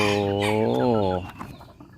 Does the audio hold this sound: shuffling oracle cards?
no